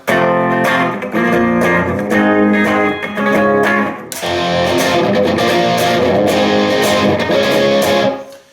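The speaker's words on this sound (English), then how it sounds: "you've now moved on to the distortion channel" Loud distorted electric guitar playing chords and riffs, the tone turning harsher and denser about halfway through as it switches to the distortion channel, continuous and close.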